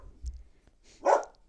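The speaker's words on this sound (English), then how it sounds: "got some dogs. They're enjoying the show." A single short dog bark sounds faintly at a distance in a quiet room, with a soft low thump just before it.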